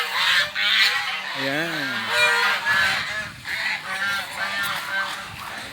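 Geese and ducks honking repeatedly at a farm breeding area in Cabuyao, Laguna, several close, loud nasal honks over a background of many birds calling, with a brief spoken word.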